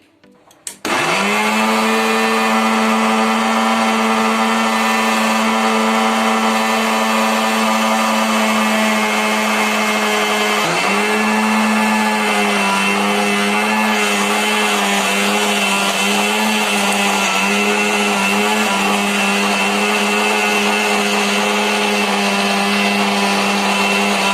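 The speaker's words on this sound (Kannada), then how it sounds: "ಈಗ ಸಣ್ಣಗೆ ಮಿಕ್ಸರ್ ಮಾಡ್ಕೊಂಡ್ ಬರ್ತೀನಿ" A kitchen mixer grinder grinds pani puri ingredients with jaggery and water, a loud, steady motor whine that runs continuously for the whole stretch, with only a brief dip in pitch partway through and no talking.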